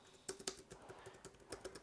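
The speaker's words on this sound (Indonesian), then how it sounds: "Ini suara dari DuxDesys." Typing on a Dux Ducis foldable wireless keyboard for tablets, soft quiet key taps in a quick irregular run, close and faint with almost no click.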